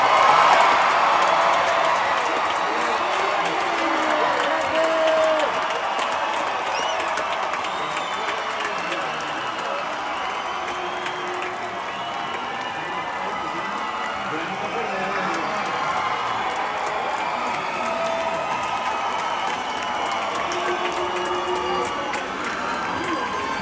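At a rock concert in Chile, a large audience claps and cheers in a broad, steady roar that fades slightly but keeps going for over twenty seconds.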